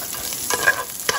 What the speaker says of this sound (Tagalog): Isang mabilisang gisa lang po.